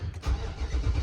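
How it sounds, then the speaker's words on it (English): A 2008 Nissan Armada starting up after a sensor replacement: a quick starter crank catches into a close, rumbling engine idle within about a second. "turn the car on, and see what happens"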